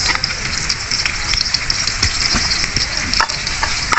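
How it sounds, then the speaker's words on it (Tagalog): Garlic frying in cooking oil gives a loud, crackling sizzle that runs steadily through the clip, with scattered sharp pops and faint stirring clatter beneath. "Unahin natin itong bawang para uh, kahit hindi pa mainit yung mantika, para kumulo yung bawang"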